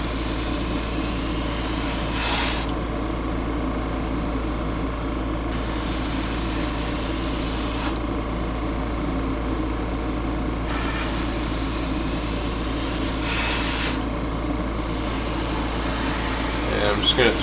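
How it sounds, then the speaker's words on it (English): Airbrush spraying paint along the edge of cardboard terrain, a steady airy hiss in bursts of a few seconds over the constant hum of a nearby compressor. "I'm just going to spray the edge of this thing as well"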